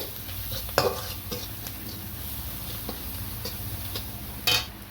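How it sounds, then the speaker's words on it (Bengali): Turmeric, chili, coriander and cumin powders are stirred in a pan, with soft scraping and a few sharp utensil clicks and taps against the pan over a low sizzle. "হলুদ, লঙ্কা গুঁড়ো, ধনে গুঁড়ো, জিরে গুঁড়ো একটু নাড়াচাড়া করে"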